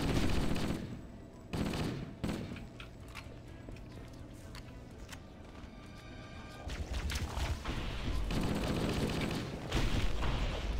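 Gunfire in the video game Halo MCC, with repeated sharp bursts and shots set in a busy, cluttered game soundscape, loud at first and then mixed with continuous background noise.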